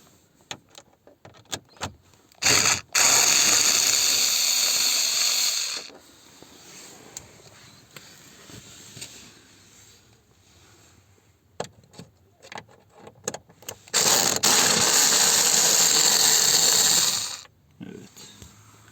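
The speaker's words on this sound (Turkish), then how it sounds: "Bu şekilde altlarda ve gösterge içlerinde yıldız vidalar var. Bunları söküyoruz." Phillips screws being removed from a Hyundai Accent instrument cluster, with two long bursts of loud ratcheting whir separated by quieter fiddling, clicks and handling noise, all close up.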